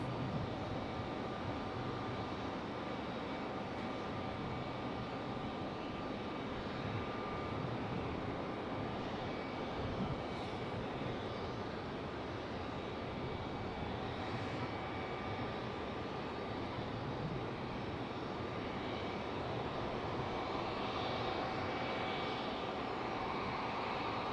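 Steady distant roar of CRJ jet engines at Raleigh-Durham airport, a continuous broadband rumble with faint tonal whine held throughout, no talk.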